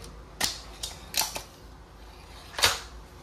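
A Crosman MagFire Ultra .177 break-barrel air rifle being broken open and cocked for reloading: several sharp mechanical clacks and clicks close by, spread over a few seconds with quiet gaps and no speech.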